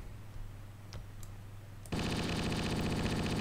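Sustained automatic gunfire from the Halo video game erupts abruptly partway through, a dense rapid stream of loud shots following a quieter stretch of low game ambience with a few faint clicks.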